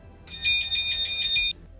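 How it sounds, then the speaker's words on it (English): An aircraft ground crew call horn sounds as a loud, steady electronic buzzer for just over a second, harsh and tonal, then cuts off abruptly against a quiet background. "they can press a button to sound the horn, which is more of a loud buzzer than a car-like honk"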